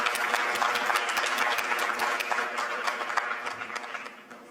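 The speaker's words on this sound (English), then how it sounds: "Can we give a round of applause to Yuval?" A Davos forum audience applauds author Yuval Harari with a dense wash of clapping that holds strong at first, then thins and fades away toward the end.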